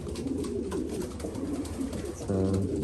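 Pigeons in a pigeon loft coo repeatedly, with soft throaty calls over a busy rustling background. A louder, closer coo rises near the end.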